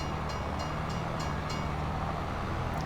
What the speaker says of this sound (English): Every time I get to a crossing, the train comes.